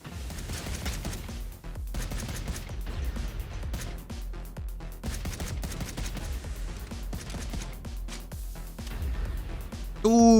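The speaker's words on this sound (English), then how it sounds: "Start shooting on sight." Gunfire crackles in rapid bursts during a PvP duel in the video game Starbase, moderately loud and fairly continuous with short gaps, and voices chat over parts of it.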